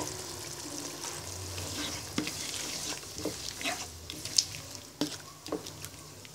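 A masala of garlic paste, ginger paste and cumin powder frying in a pan, a soft steady sizzle broken by several sharp spoon clinks and stirring scrapes, close by.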